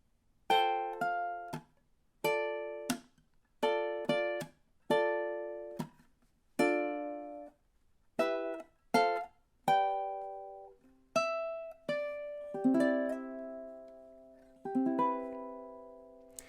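A ukulele plays the slow ending of a song, a series of separate strummed chords and single plucked notes, each ringing out and fading, unhurried with free timing, alone and fairly quiet.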